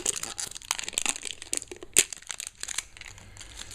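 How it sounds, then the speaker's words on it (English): Plastic wrap is peeled off a new oil filter for a 2015 Nissan Micra, a close, continuous crinkling and crackling with one sharper tearing snap partway through, no voices. "We'll peel the plastic wrap off of it."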